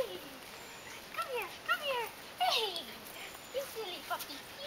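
A Havanese puppy whimpers in a string of short, high, rising-and-falling whines, several in quick succession, close and fairly quiet indoors.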